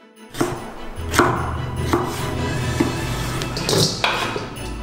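Knife chopping torch-smoked meat into cubes on a cutting board, a series of distinct sharp thuds at an uneven pace, close and clear, with faint kitchen background between strikes.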